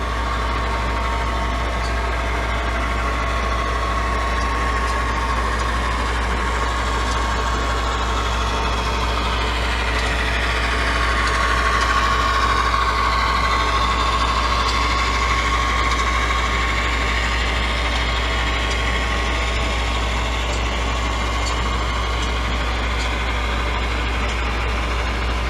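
A model railroad locomotive runs on a layout with a steady motor whine and low hum, the pitch sweeping up and down around the middle as it moves, continuous and fairly close, with no talking.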